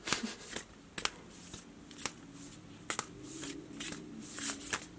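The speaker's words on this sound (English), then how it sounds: "let me shuffle these again, because these were the cards that came out for the last pile" Tarot cards being shuffled by hand, soft papery riffles and sharp flicks repeating in quick irregular bursts, close and quiet, with no voice over them.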